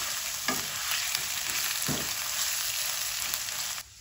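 Sliced onions sizzle steadily in hot oil in a pan, added raw and cooked only briefly for a bitter gourd curry, with a few soft stirring scrapes breaking the continuous hiss before it suddenly drops away near the end.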